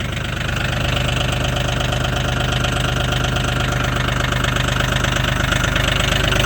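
A Mahindra 1635 HST cab tractor engine runs just after a cold start at -22°C, a loud, close, rough diesel idle with a steady knocking pulse that swells slightly in the first second.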